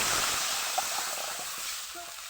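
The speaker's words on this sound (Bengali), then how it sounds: "যতটা দেব ততটা পরিমাণ মতন জল ঢেলে দিলাম" Water poured into a pan of frying mustard, chilli and tamarind sets off a soft, steady hiss and sizzle that fades slightly over a couple of seconds, fairly quiet and close.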